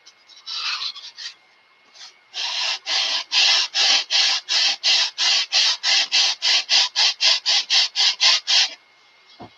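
A sanding block is rubbed back and forth on a model aircraft part in a brisk, even run of about twenty close, raspy strokes, following a few tentative passes, with no voices.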